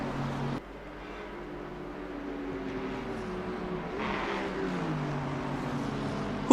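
A Bentley race car engine in a sim racing game at Spa-Francorchamps drones steadily with rising and falling harmonic pitch, a brief dip early on, then holds a constant, moderately loud engine note throughout.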